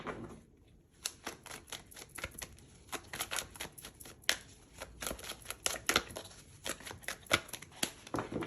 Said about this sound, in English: Your cards felt like they needed a little extra shuffling there.